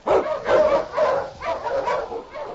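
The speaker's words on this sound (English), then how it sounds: "On King! On you husky" A husky sled dog barks and yips loudly and close by in a series of excited bursts with a whimpering edge, set in an old-time radio drama of the Yukon.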